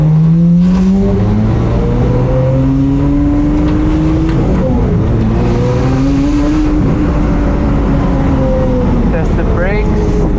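A DDE 550 Maranello on a short test drive around the block, its engine loud and close from inside the car, with pitch rising and falling through repeated accelerations and gear changes.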